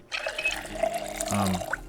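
Water running from a tap while a character drinks in the video game Project Zomboid, a quiet splashing gush with faint dripping and gurgling, alone and low in level.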